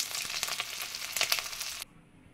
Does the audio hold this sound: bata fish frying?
yes